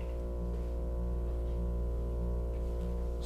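An indoor air conditioner gives off a constant low, harmonic electrical buzz, steady and unbroken throughout with no talking.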